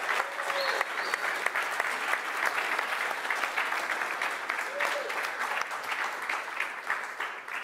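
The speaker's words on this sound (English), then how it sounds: "Please give them a round of applause." An indoor audience at a software presentation applauds steadily and warmly for several seconds, with a few whoops and cheers rising above the clapping.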